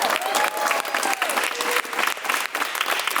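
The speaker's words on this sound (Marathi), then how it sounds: "चला तन्वीसाठी टाळ्या वाजूया आपण" A studio audience on Bigg Boss Marathi applauds for contestant Tanvi, with loud, sustained clapping from a large crowd and a voice briefly audible over it.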